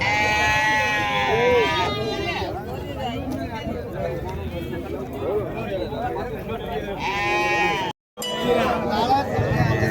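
Sheep and goat kids at the Orappam goat market bleat repeatedly, loud and close, with several overlapping cries amid crowd noise and people talking.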